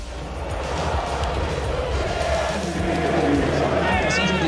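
A dense football crowd roars continuously at Boca's stadium before the Super Clásico, a loud, sustained wash of voices with chanting and cheering throughout.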